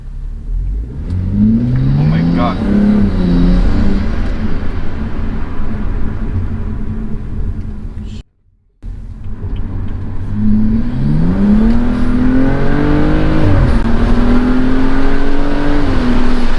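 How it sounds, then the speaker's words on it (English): A car in sport mode accelerates hard on a test drive, its engine climbing through the revs loud and close, then a brief gap and a second strong pull with rising, whining tones. "We're gonna turn it on, put it on sport mode, number 9."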